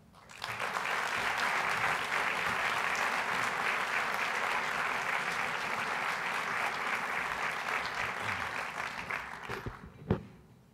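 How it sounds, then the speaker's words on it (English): Sustained, full applause from a large audience at the 2012 Profile in Courage Award ceremony, steady and even for about nine seconds before dying away, with a single sharp knock at the end. "Please join me in a round of applause for our chairman"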